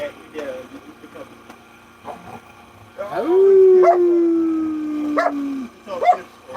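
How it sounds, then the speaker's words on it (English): A dog barks and lets out a long, sustained howl up close, with sharp yips before and after, while people talk excitedly nearby. "Oh, he's barking."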